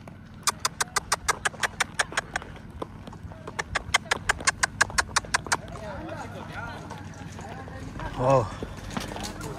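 A cowboy's horse at a ranch gathering in Baviácora clops along on hard ground in a quick, even run of sharp hoofbeats, close and loud, then fades under crowd noise while a voice briefly calls out.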